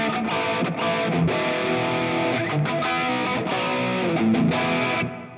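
An electric guitar on its full humbucker pickup plays through a distortion effect, sounding thick, sustained chords and notes changing in a loose rhythm, loud and close with no talking.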